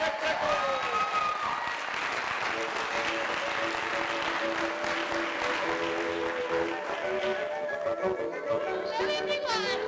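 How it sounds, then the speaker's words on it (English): Audience applause for a stage show fills the room as steady clapping, with voices and tonal sounds over it. "Let's give a round of applause for Nick Tickle."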